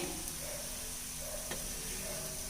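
Parottas sizzle and fry on a hot griddle as they are pushed to the side, giving a steady, close crackling hiss with a faint scraping tick partway through.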